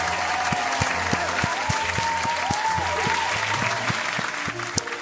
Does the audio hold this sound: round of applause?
yes